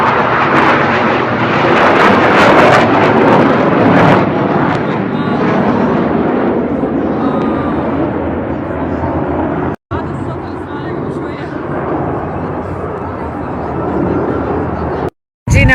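A loud, sustained military jet roar fills the air for most of the stretch, broad and rumbling, with people talking underneath and a couple of brief dropouts near the end, in Seattle.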